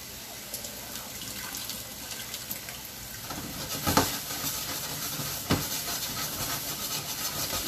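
Water draining and running in a kitchen sink, a steady broadband hiss with a few louder splashes and gurgles around the middle, close and continuous with no voices.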